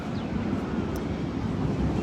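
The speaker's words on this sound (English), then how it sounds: "the breeze right now is really helping that heat" Wind blowing outdoors at a theme park on a hot day, a steady rushing buffet of air across the microphone with no voices.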